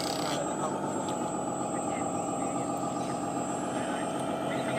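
A steady, loud exhaust roar drones on without letup, deep and rumbling throughout.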